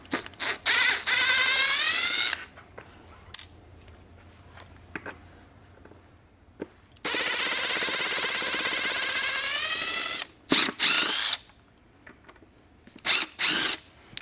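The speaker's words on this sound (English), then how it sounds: "Let's take these screws out." A power driver backs screws out of an AeroCreeper Surge creeper, running in several whirring bursts of a few seconds each with pauses between them, close and clear with no voices.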